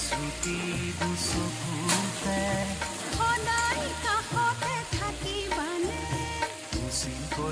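Goat mutton sizzles as it fries in a pan for mutton curry, a dense crackling hiss with stirring, while music with melodic tones plays in the background.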